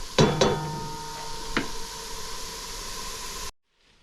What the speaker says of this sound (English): I'm going to go ahead and I'm going to drop in the butter